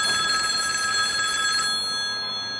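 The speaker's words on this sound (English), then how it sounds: "What kind of cell phone ring like that?" A steady electronic phone ring trills continuously for over a second and a half, then cuts off abruptly, leaving faint room noise.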